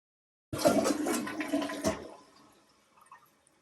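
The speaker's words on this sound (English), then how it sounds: "We can see here that the toilet is not flushing properly." A household toilet that is not flushing properly gives a loud rushing flush lasting about a second and a half. It then fades into a quieter trickle and drip as the tank refills, with no talking.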